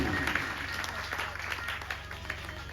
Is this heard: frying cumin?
no